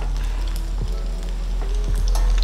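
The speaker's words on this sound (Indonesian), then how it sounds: "gorengnya sampai kecoklatan aja" Brulee bombs sizzle and crackle in hot oil until browned, a continuous frying hiss with scattered pops and faint clinks, no voices.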